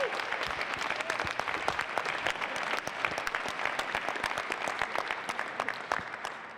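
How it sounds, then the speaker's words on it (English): Press-conference audience in Branson gives a boxing promoter a round of applause, crisp individual claps from a modest crowd, close and sharp, continuing steadily and tapering slightly at the end. "So I want you to give him a big, loud round of applause."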